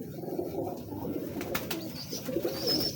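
Teddy breeder pigeons coo close by, a steady bed of low throaty coos with a few sharp clicks or taps midway, and no voices.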